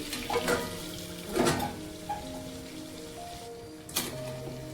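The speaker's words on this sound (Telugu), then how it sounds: "ఎంత చక్కగా వేగుతున్నాయో" Stuffed brinjal (eggplant) curry fries in a pan after steaming under a lid. A soft, rain-like sizzle runs throughout, broken by a few louder bursts of clatter and spitting.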